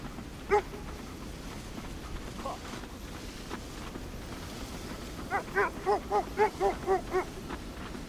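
A dog in the video game Kona II Brume barks once early, then again faintly, before a rapid run of about eight sharp barks near the end over a steady low background hum.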